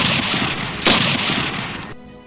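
A single loud gunshot blast bursts out amid a noisy, rumbling scene, then the sound cuts off abruptly near the end.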